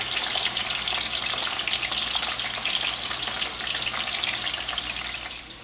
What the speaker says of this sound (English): I'm going to go ahead and fry these fries.